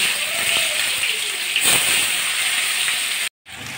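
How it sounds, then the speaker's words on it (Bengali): Eggplant pieces, salted and coated in turmeric, deep-fry in white oil with a steady, dense hiss that cuts out for a moment near the end. "এখন আমি বেগুনগুলো তেলের ভিতর দিয়ে দিচ্ছি, ভালো করে ভেজে আমি তুলে নেব।"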